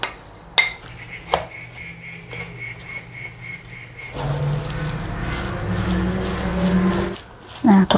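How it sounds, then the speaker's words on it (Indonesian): Chopped chives, scallions and chicken filling for dumplings are mixed in a bowl: a few sharp utensil clinks against the bowl, then several seconds of steady, wet stirring and scraping, ending with more knocks. "Bahan-bahannya saya campur jadi satu semua."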